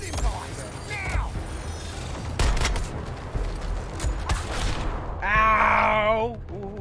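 Video game gunfire in a chaotic multiplayer battle against a boss, with dense bursty shots and mechanical clatter spread through the scene, a whooshing wind effect, and a rising whistling tone near the end. Players talk and shout over the action.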